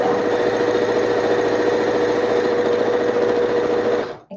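Domestic sewing machine stitching fabric for an avant-garde dress, a loud, steady, close-up mechanical whir with a fast needle rhythm that runs continuously for about four seconds before stopping abruptly.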